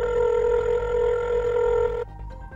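A telephone rings in Minecraft, a loud, steady electronic tone that holds for about two seconds and then cuts off abruptly, leaving a quiet hum.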